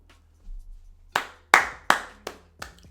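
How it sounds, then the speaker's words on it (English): Five sharp, separate hand claps ring out close by at a slightly uneven pace, following a brief faint murmur, with a clean quiet background between each clap. "Round of applause for that."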